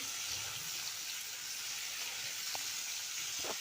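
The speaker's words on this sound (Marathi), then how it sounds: "व आपल्याला एक दोन मिनिट परतून घ्यायची आहेत भेंडी" Okra is stir-fried in hot oil in a kadai, giving a soft, continuous sizzle with a couple of faint clinks near the end.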